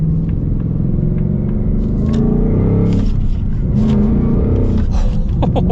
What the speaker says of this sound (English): I got a little bit deeper in the throttle there